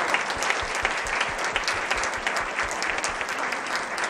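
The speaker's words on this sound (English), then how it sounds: "could we have one more round of applause for our East Coventry teachers?" A school board meeting audience gives a loud, sustained round of applause for the East Coventry teachers, dense overlapping claps with no talk.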